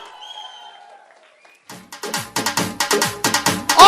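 An audience at a Safe Shop network meeting rises and claps loudly, the applause building from scattered claps into strong rhythmic waves after a faint voice at the start.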